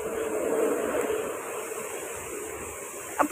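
High-pressure water spray splashing hard and continuously nearby, a broad hissing rush with a couple of sharp splats near the end.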